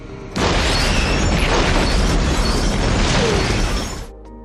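A loud, sustained explosion booms and roars for several seconds, then fades out quickly.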